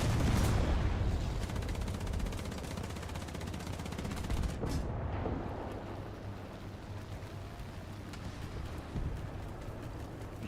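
Autocannon fire in War Thunder, a 30mm gun on a tank, loud dense bursts of rapid shots over a rumbling battlefield, with a sharp blast near the middle and continuous firing throughout.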